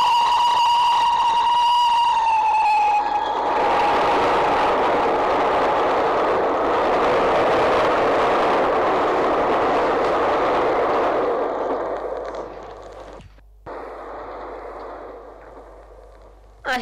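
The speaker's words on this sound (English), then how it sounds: "A train roared by." A loud, sustained roar of a train rushing past, preceded by a high steady whistle-like tone, fading toward the end.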